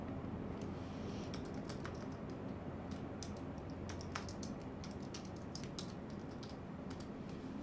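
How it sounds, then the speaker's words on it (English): Steady stream of typing on a computer keyboard, quick light key clicks scattered in irregular bursts over a constant low background hum, with no talking. "I can type her name."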